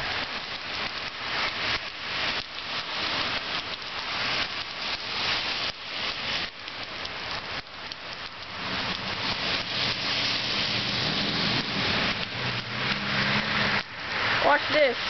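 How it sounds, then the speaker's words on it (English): Heavy rain pours steadily during a flood in Fullerton, a constant hiss of drops on surfaces with a passing car and some talk beneath it. "You can see how bad the rain is."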